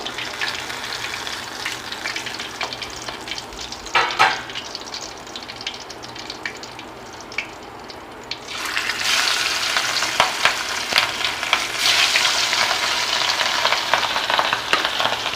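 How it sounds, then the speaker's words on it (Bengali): Fish frying in oil in a pan over a high gas flame, a steady loud sizzle throughout that swells louder and brighter partway through as more fish go in, with no talking. "গ্যাসের ফ্লেমটাকে হাই ফ্লেমে রেখেই মাছগুলো ভেজে নিচ্ছি"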